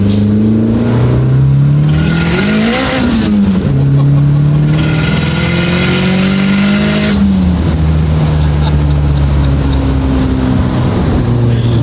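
A tuned 1740 hp Nissan Skyline R34 GT-R with an RB26 engine roars continuously, its pitch climbing through gear changes as it accelerates on the street, with a few low voices faintly underneath.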